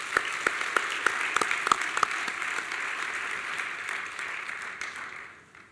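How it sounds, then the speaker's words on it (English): An audience at a Key Club community event claps in a dense burst of applause with a few sharp individual claps up front, then the clapping thins and fades out toward the end. "Let's give them a round of applause as well."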